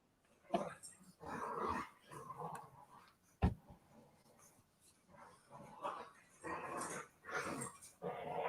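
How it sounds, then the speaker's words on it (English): Dogs growl and bark in bursts, a few close rough growls and yelps breaking up the quiet, with people talking in between. "I think them dogs would be tired by now."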